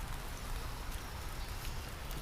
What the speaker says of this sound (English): It's getting a little chilly and rainy out here.